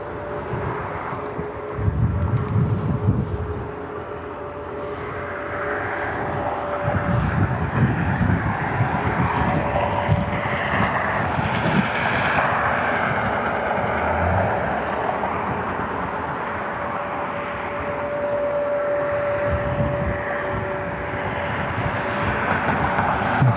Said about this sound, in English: JetBlue is our next inbound flight